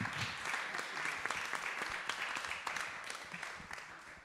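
An audience applauds a panel at the close of an art talk, a steady patter of many hands clapping at moderate distance for about four seconds, fairly quiet and with no talk over it.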